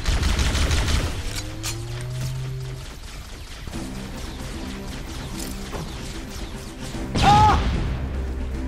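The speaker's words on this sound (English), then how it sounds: "Who is shooting me?" Gunfire in the Halo video game: a dense burst of rapid shots at the start, then game effects and tones, and a second sharp burst near the end, all loud and close.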